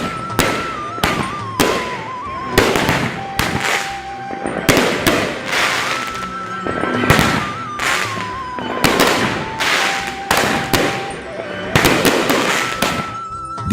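Diwali firecrackers burst in rapid, crackling volleys again and again, loud and close, with a steady melodic tone running underneath.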